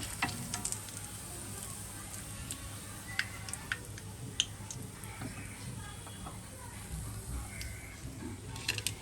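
Food frying in oil in a pan on a slow gas flame, a steady soft sizzle with scattered small pops and ticks, quiet and continuous with no voices.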